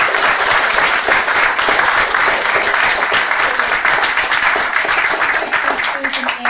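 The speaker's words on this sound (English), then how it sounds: "Round of applause for the panel." A crowd at a public meeting on bus ownership applauds a panel, with loud, sustained clapping that holds steady throughout and has no voices on top.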